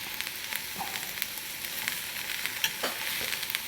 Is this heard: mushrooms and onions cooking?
yes